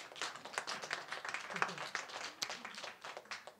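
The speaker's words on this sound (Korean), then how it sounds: "박수 한번 쳐주세요." Church congregation claps in a short, uneven burst of scattered hands, moderately loud and close, with rhythm fading in and out over several seconds.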